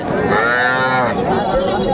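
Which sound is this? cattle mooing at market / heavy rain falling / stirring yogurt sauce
cattle mooing at market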